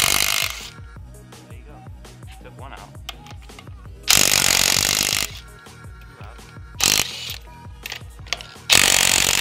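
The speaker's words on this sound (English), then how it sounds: "I got my good old 12 volt brushless DeWalt half inch impact." A DeWalt 12-volt brushless half-inch cordless impact wrench hammers at lug nuts on a Toyota pickup in several loud, rattling bursts, separated by quieter stretches with clicking and handling noise.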